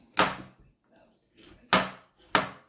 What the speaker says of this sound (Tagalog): Ganyan lang, paghiwa.